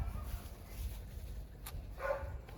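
Laika hunting dogs bark at a distance in an outdoor setting, a single brief yelp rising near the end over steady low background rumble.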